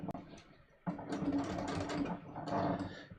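A sewing machine stitches along the lower fold of a pair of jeans, a steady close mechanical whir starting after a short pause and running continuously, moderately quiet.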